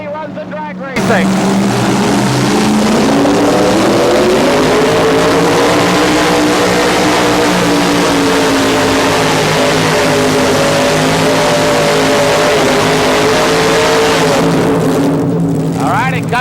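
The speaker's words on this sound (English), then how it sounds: "The 582 Keith Black Chrysler Hemi engine." A little red Dodge drag racer powered by a 582 Keith Black Chrysler Hemi engine roars through a run, a loud sustained engine drone rising in pitch after a sudden start, with a commentator talking over it.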